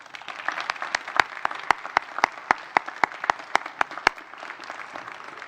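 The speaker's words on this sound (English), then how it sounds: "seniors, please give your parents and family members a round of applause" A graduation crowd applauds steadily, with many sharp individual claps standing out over a dense wash of clapping that fades slightly at the end.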